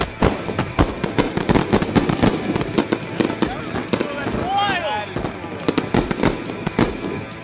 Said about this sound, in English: We're about to see 150 explosions.